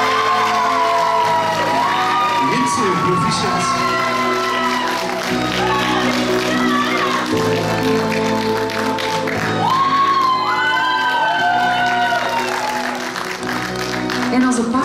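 A pageant audience at the Miss Fashion 2020 awards claps and cheers steadily for a newly named winner, with an announcer speaking over the crowd and background music running throughout.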